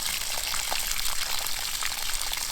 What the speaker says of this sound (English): I just want to make sure that this water drains away from the house